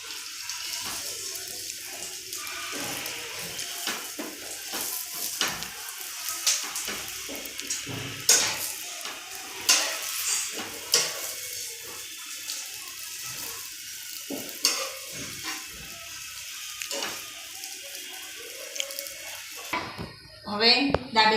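Dabeli buns frying in butter or oil on a pan give a steady sizzling hiss, with light clinks and scrapes of utensils against the pan throughout and a brief clatter near the end.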